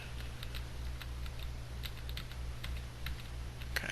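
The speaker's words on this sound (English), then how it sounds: "I'm going to type space." Soft, steady typing on a computer keyboard, a string of light key clicks in an even rhythm with a low electrical hum beneath, close and fairly quiet, no talking.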